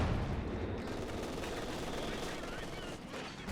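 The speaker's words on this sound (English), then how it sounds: "MG opening fire, just so many men." Machine gun fire in the Company of Heroes 2 video game, a dense continuous rattle of bursts with distant explosive rumble in a World War II battle, persisting throughout.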